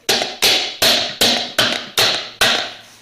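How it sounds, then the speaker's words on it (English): A little hammer strikes the back of a dented 1979 Chrysler 300 metal rim seven times at an even, brisk pace, each sharp, close tap ringing briefly before fading. "I'm going to do is go on the back side of this with my little hammer, and I'm going to tap that"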